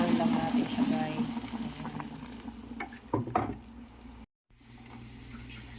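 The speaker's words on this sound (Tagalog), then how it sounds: "Sinunod ko na, guys, yung ating chicken. Ayan, i-boil lang natin siya, guys." Chicken simmers in a pot of water for red chicken kabsa, a steady bubbling and sizzling hiss with a few stirring clatters and brief talk over it, then a short silent gap.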